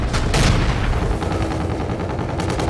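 Sustained automatic gunfire in the shooter game Call of Duty: Infinite Warfare during a team deathmatch match, loud, dense bursts of rapid shots with heavier blasts early on, continuous throughout with no talk.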